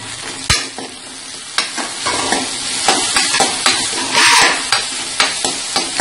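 Tomato and shallots sautéing in a pan for black chickpea kulambu, a loud, close sizzle punctuated by sharp spoon scrapes and knocks against the pan, no speech.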